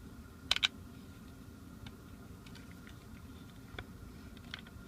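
Two quick, sharp plastic-ridge clicks as an M1 Garand stock ferrule is pressed onto the stock by hand, close and distinct, followed by a few fainter scattered ticks in a quiet room.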